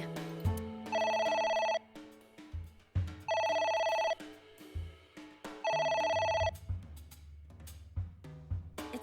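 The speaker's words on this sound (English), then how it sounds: "It won't stop ringing." In AI: The Somnium Files, a phone keeps ringing in three loud, evenly spaced electronic trills that play over low background game music, with no one speaking.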